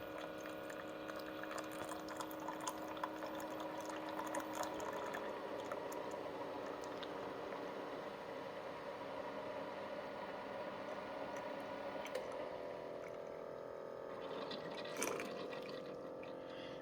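A Keurig coffee maker brews through a reusable Perfect Pod K-Cup: a steady hiss of hot water streams and gurgles into the cup, with faint bubbling and a few small clicks toward the end, all close and continuous.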